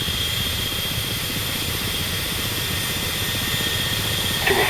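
A Ka-50 Black Shark attack helicopter in the DCS flight simulator, its engine and rotor producing a steady, loud, continuous whine and drone with a high-pitched turbine tone throughout.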